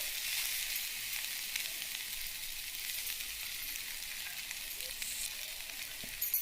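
Boiled sweet corn sizzles steadily in a pan as it is stirred, a dense, even frying hiss up close with faint scraping movement and no voices.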